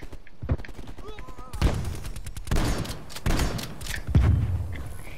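Gunfire in the Call of Duty Cold War video game on the Crossroads map in Domination mode, a series of sharp, loud shots in quick bursts with heavy thumps between them, close and busy.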